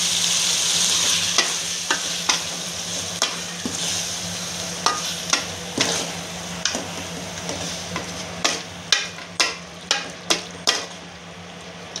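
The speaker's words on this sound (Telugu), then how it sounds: "బాగా కలుపుకోవాలి" Garlic, onion, ginger and coconut paste frying in hot oil with a steady sizzle, while a spoon stirs and scrapes the pan in regular sharp strokes, growing denser and more rhythmic toward the end; no talking.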